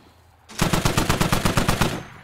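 .50 cal heavy machine gun in the Squad video game firing at a BTR armored vehicle, a loud steady burst of about fourteen evenly spaced heavy thumping shots after a quiet moment.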